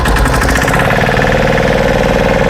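A Chinese-made motor on a river boat headed toward the sea at Talsari runs loud and steady, with a fast chugging knock and propeller churn throughout.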